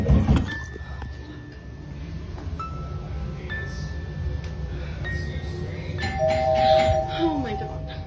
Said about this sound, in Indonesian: Dia merekam salah satu kejadian di mana bel rumahnya berbunyi sendiri, tapi pas dilihat tidak ada orang sama sekali di luar.